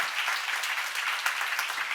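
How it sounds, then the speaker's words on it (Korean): Steady congregational applause fills a church seminar hall, dense and continuous clapping from many hands with no talk over it. "박수를 하나 둘 셋"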